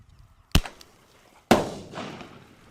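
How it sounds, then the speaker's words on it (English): A bird banger firecracker launched from a cap gun: a sharp close crack, then about a second later a louder midair bang whose echo rolls away outdoors, no talking. "This firecracker shoots out like 25 feet and explodes in midair."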